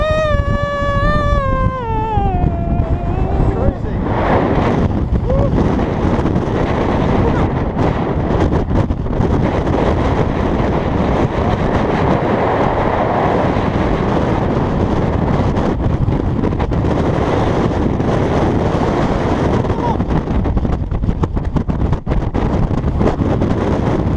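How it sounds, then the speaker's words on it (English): Strong wind buffets a wild camp beside Buttermere, a steady roaring rush that fills the whole stretch, loud and close, after a brief fading electronic tone at the start. "Windy."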